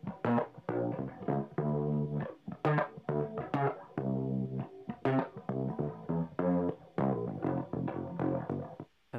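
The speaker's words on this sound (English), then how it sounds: "I just use this plugin here called Fat Effects with the Dirty Wobble preset and just compress it a lot and just make it sound gross with like chorus and distortion" Bass track processed with a Dirty Wobble preset, heavy compression, chorus and distortion, playing a choppy rhythmic pattern of gritty, wobbling notes in short repeated bursts with gaps between phrases, no voices.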